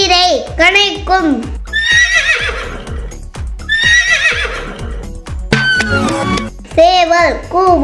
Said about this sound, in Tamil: குதிரை கணைக்கும்.